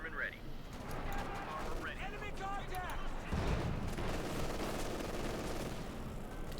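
Guns fire at a Panther tank in a Company of Heroes 2 battle, a dense clatter of mid-distance shots and impacts with whistling effects mixed through, heard under a commentator's voice.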